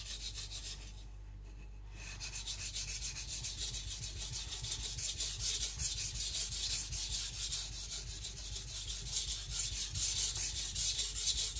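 A coarse Shapton Pro 220 sharpening stone is rubbed back and forth in a steady, rapid gritty rasping, close and moderately quiet, with a short pause near the start before the scrubbing continues without talk.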